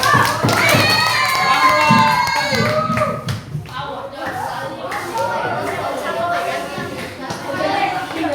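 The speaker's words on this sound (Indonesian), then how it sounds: "Tepuk tangan dulu semua." Classroom applause with children cheering and shouting, a burst of clapping and excited young voices that stays loud throughout, with some talk mixed in.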